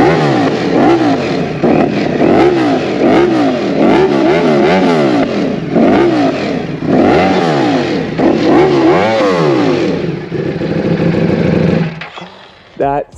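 A motorcycle fitted with an Akrapovic exhaust and a Bren stage 2 flash, already warmed up, revs loudly and repeatedly up close in rising and falling bursts, then drops away near the end.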